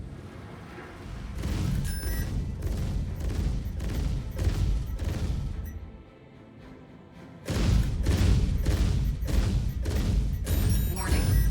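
Energy weapons on an F8C Lightning fighter in the space game Star Citizen fire in loud rapid bursts, with a short quieter lull near the middle before the barrage resumes at full strength.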